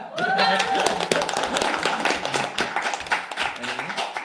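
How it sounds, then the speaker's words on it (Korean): An audience breaks into applause, a dense patter of clapping with voices talking over it throughout. "박수 한번 크게 주세요."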